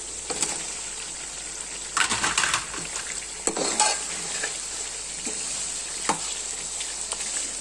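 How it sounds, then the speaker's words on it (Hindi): Chicken goes into a pan with lightly fried omelette strips, giving a soft steady sizzle with intermittent stirring scrapes and utensil clinks against the pan. "इसे बस मैं हल्का सा फ्राई किया और इसके अंदर अब मैं चिकन शामिल कर रही हूँ।"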